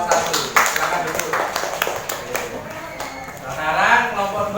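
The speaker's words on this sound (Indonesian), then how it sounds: "tepuk tangan untuk kelompok 1" Students in a classroom applaud a presenting group with brisk, scattered clapping that runs on for several seconds, mixed with voices talking over it.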